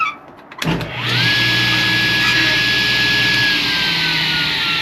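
A power saw spins up and cuts through a batch of wooden studs at once. A sharp start gives way to a loud, sustained whining cut that runs steadily to the end.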